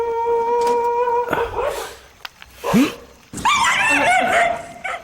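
Dogs bark and yip in a busy street scene, several sharp barks and whimpers at close range mixed with rising and falling yelps, with voices and background noise around them.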